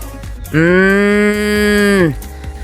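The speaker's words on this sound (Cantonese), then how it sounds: "我哋就同啲牛一齊住啊！" A single long, loud cow moo sounds close by at a homestay in Nyingchi, Tibet, a steady drawn-out call of about a second and a half, alone over quiet background.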